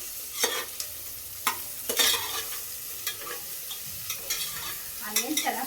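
Onions stirred in hot oil inside a small 5-litre pressure cooker, a bright continuous sizzle with irregular scrapes and clinks of the spoon against the pot, close and without speech.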